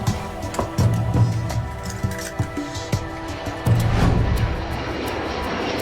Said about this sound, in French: le vol Helios 522 décolle sous un soleil radieux